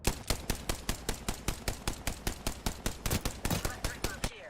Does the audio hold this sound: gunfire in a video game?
yes